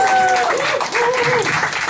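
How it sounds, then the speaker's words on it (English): An audience at a Web Wednesday tech meetup in Hong Kong claps briefly while voices talk over the applause. "a round of applause for this"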